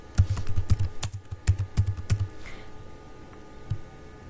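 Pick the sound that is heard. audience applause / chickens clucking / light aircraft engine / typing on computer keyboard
typing on computer keyboard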